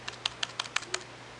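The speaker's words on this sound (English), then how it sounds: "let me go ahead and type my password in here" Someone types a password on a 13-inch MacBook Pro keyboard: about six quick, crisp keystrokes in a steady rhythm, close and clear, followed by brief quiet.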